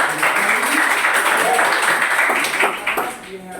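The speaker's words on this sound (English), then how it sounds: "May we clap once again for" A class applauds a student's personal narrative: a steady wash of many hands clapping at moderate volume that fades near the end, with a voice speaking faintly over it.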